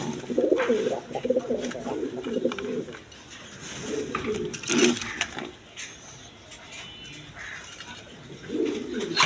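Large-breed pigeons cooing at a wholesale pigeon market, several birds making repeated low throaty coos in overlapping bursts, fairly close, with chirps and light market background noise.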